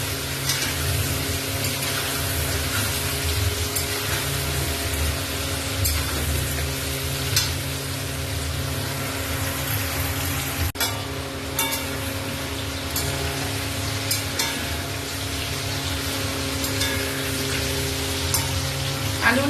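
Potato pieces frying in hot oil with salt and turmeric, a steady close crackling sizzle with occasional stirring scrapes and pops, continuous throughout and with no talking.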